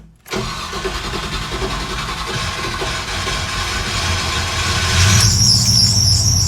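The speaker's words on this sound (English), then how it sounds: "Oh, that belt squeal is perfect. Yeah, she's a running." A car engine cranks and catches right away after a new transmission install, then runs steadily and loudly up close; near the end a sharp, high belt squeal rises over the idle.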